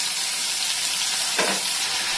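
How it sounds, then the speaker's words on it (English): Tomatoes hit a frying pan with green chili in hot oil for paneer butter masala, a dense, loud, unbroken sizzle with a brief stirring swish midway, close up and without voices. "Next we are adding tomatoes."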